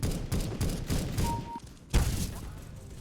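Rapid bursts of gunfire from a sniper rifle and other weapons in a Counter-Strike: Global Offensive match, repeated heavy shots in quick succession, then a pause and a single loud shot near the end.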